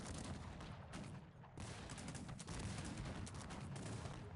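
Cannons fire grapeshot in the strategy game Cossacks 3, a dense continuous barrage of overlapping booms and crackling volleys, loud and sustained throughout with a brief lull midway.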